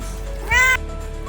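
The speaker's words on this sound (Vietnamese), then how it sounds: "đang ghi âm thì tự nhiên con mèo nó cứ nhõng nhẽo meo meo" A cat meows once, a short rising whine lasting under half a second, fairly close and clear over a quiet room during a dinner outing in Singapore.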